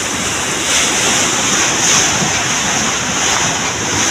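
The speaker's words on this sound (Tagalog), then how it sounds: "Grabe na jud kaayo ang ulan, naghangina na gid umay ko so Ginoo ko." Heavy rain and strong wind pour down as a steady, loud broadband rush with gusting swells, heard alone with no talking.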